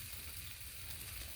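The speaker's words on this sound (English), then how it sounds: "Just listen to that sizzle." Cheddar cheese sizzles on focaccia over a hot griddle, a steady close hiss and crackle that fills the whole stretch without pause.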